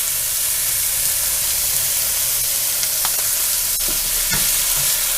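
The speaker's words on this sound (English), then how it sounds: "Alright, we've got a nice sizzle going on here, and the vegetables are starting to get a little translucent." Minced garlic and vegetables sizzle steadily in a hot pan while being stir-fried for a tortellini ham soup, a constant close frying hiss with a few faint clinks and stirring scrapes.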